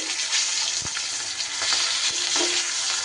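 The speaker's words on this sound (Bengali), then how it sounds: "মাছের মাথাটা কিন্তু আমি খুব সুন্দর করে উল্টে পাল্টে এইভাবে ভেজে নিচ্ছি" A hilsa fish head fries in hot oil and is turned in the pan, producing a loud, continuous close-up sizzle with occasional scraping knocks from the turning.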